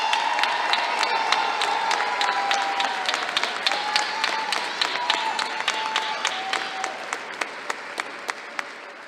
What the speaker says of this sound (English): One final round of applause for all of our graduates.